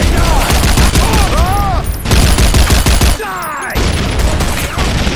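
Gunfire in an action film, with rapid bursts of loud, overlapping shots and automatic-fire fusillades, punctuated by brief drops and mechanical clatter.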